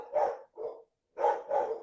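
Dogs bark in four short bursts, a pair then another pair after a brief pause, loud and close with no talking over them.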